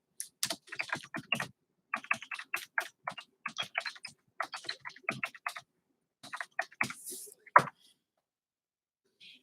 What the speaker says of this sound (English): I'm going to type that in right now.